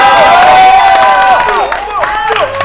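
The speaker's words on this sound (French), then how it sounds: "sous vos applaudissements" A studio audience greets a contestant with applause and cheering, loud crowd noise beneath whoops and shrill, gliding shouts.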